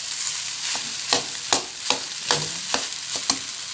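Vegetable fried rice with egg is stir-fried in a pan, giving a steady soft sizzle broken by repeated sharp scraping strokes of a spatula at an uneven rhythm, close and fairly quiet, with no talk.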